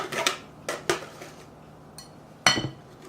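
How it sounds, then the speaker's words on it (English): Butternut squash ricotta filling scraped and dumped from a pot into a mixing bowl, with several sharp clanks and knocks of a utensil against metal and glass, close and distinct. "we're going to take all of this loveliness and dump it into a bowl I can actually mix in"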